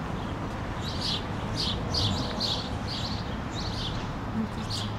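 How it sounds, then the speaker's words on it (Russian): Birds calling outdoors in a shady spot beside blossoming trees, a series of short high chirps repeating every half second or so over a steady background hum, moderately distant and without speech. "птицы-то кричат"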